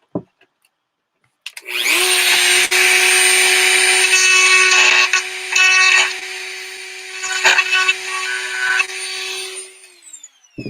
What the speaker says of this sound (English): Just gonna clean the hole a little bit. Might go through it one more time to get some of that excess plastic out.